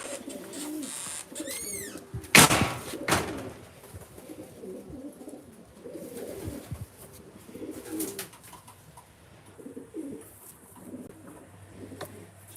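A racing pigeon coos in low, repeated rumbling phrases close by, with a sharp high squeak and rustling early on and soft background noise throughout.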